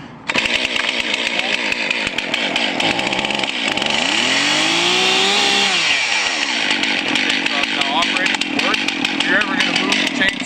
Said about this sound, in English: we're just about ready to start the chainsaw